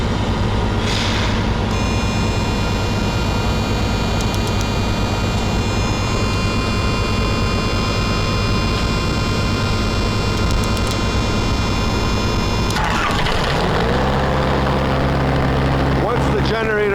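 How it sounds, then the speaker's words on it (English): A reefer container's generator runs as a loud, constant mechanical drone with whining tones, then shifts and settles into a deeper, steadier hum as it powers up. "To power up the generator, all we need to do is put the switch on. Generator will take a few minutes to start up."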